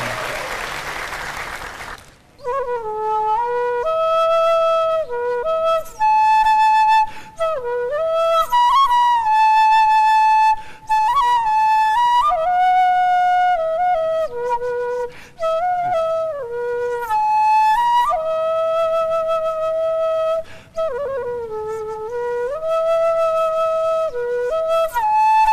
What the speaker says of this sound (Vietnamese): Tiếng sáo là réo rắc lắm á nha, có thể là rung động lòng người ta đó.